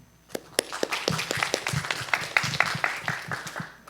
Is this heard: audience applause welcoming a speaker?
yes